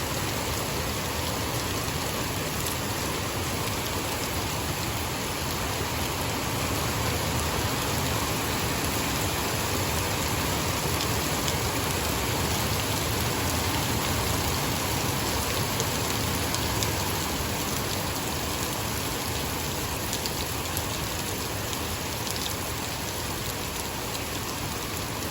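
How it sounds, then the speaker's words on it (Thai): Rain falls in a steady, unbroken wash of dense patter on surfaces, constant and fairly loud throughout with no one talking. "ฝนตกแล้วหอมกลิ่นดินไหมค่ะทุกคนหอมหอม"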